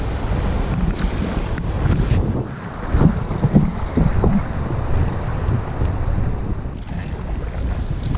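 A pack raft paddled through low-water rapids on the Lower Owyhee River, rushing water and heavy wind buffeting the microphone with a few faint paddle splashes, no talking.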